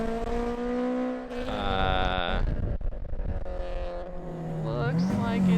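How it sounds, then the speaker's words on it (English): A Honda Integra Type R engine revs hard on a mountain touge run, rising and falling through gears with a loud, steady drone, while a person talks over it. "Really good sounding car."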